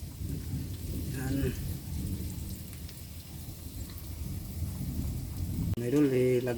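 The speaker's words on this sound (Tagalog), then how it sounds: "Narinig yung kulog mga idol. Ulan dito." Steady rain hissing throughout with low rumbling thunder, as a voice talks briefly over it; a louder burst of speech comes near the end.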